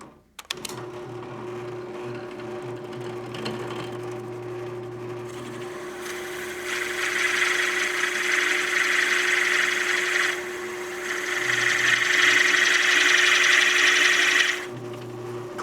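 A drill press whirs steadily at slow speed with a constant motor hum, while the bit grinds into metal in two louder, harsher stretches.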